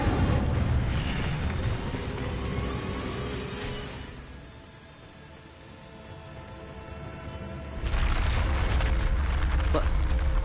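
Incendio fire spell cast in a Harry Potter video game, a roaring whoosh of flame that swells, fades to a low rumble, then erupts again loudly with crackling bursts, amid background voices.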